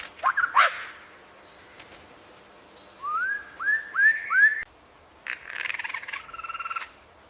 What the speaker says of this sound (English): Lyrebird, the master musician of the forest.